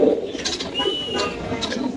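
A pigeon for sale at a bird market gives soft, repeated coos, a few short calls close by against a quiet background.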